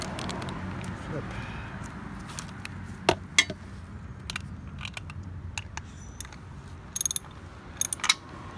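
Oil filter being hand-tightened on a 2001 Triumph Sprint RS 955i motorcycle, with close, faint scraping, light ratchet-like clicks and a few sharp metallic taps scattered over a low background hum.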